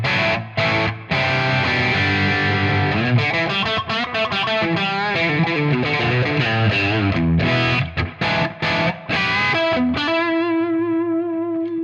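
Electric guitar on the neck pickup played through a Tonex pushed overdrive tone, a continuous run of loud, driven chords and single notes that ends on a sustained ringing note fading out, with no talking.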